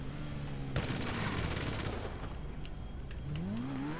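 A burst of rapid gunfire in the Grand Theft Auto video game, loud broadband crackle lasting about a second, followed by game ambience and a rising engine-like tone near the end.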